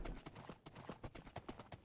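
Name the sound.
horse hooves clip-clop in Minecraft video game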